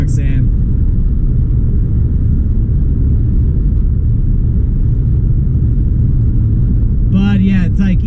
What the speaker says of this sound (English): we got a huge truck convoy in both lanes right now